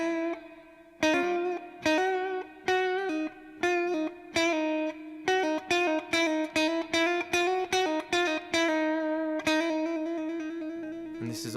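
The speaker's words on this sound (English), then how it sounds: "this is a very good exercise, just a chromatic thing, doing hammer-ons and pull-offs." Electric guitar, apparently through a distortion effect, plays a chromatic exercise of rapid hammer-ons and pull-offs. The notes step in a quick, steady rhythm of short bursts that repeat for several seconds, with no talking.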